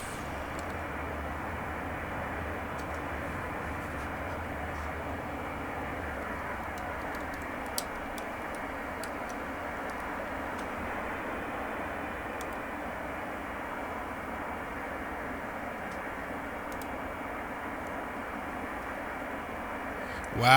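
An MD-82 airliner in the FSX flight simulator starting to taxi, a steady loud engine drone with a hum underneath, continuous and unchanging, with a few faint clicks.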